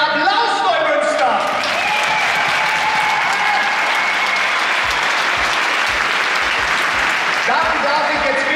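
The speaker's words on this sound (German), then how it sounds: "Haben wir mal einen Applaus, Neumünster!" A large crowd applauds in a wooden arena hall at a Trakehner stallion show, dense continuous clapping filling the space, with a voice over the start and end.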